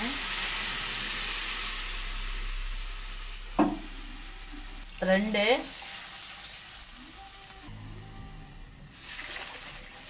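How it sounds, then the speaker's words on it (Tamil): Water poured into a pan of sautéed onions and tomatoes while cooking wheat rava produces a steady sizzle and bubbling hiss, with a few short clanks and someone speaking briefly over it. "நான் வந்து தண்ணி ஊத்துறேன் பாருங்க."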